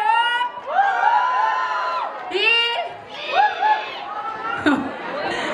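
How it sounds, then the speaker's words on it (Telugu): Audience at a Ugadi 2025 dance performance, cheering and whooping in loud crowd chatter, with shouts and calls rising and falling over several seconds. "ఒక్కసారి గట్టిగా చప్పట్లు వీళ్ళ కోసం"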